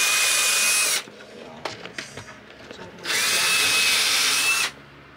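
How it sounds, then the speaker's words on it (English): A power drill whines loudly in two long bursts while drilling holes on a trawler, with a short pause of clattering and handling noises between them. "let me just drill these a little bit straighter and deeper."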